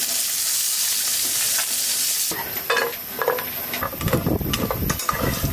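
Bori lentil dumplings frying in a little oil, a steady close sizzle that turns busier midway, with scraping stirs and crackles breaking through it and no voices.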